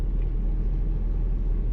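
Steady low rumble of a traffic jam crawling across a bridge in Malaysia, idling and slow-moving engines blending into a constant dense drone with no voices.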